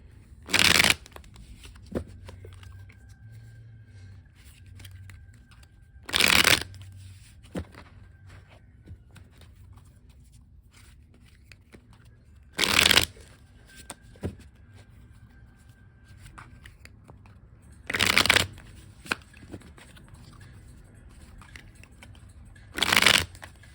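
Playing cards are riffled in five quick, crisp bursts spaced several seconds apart, with quiet handling sounds between.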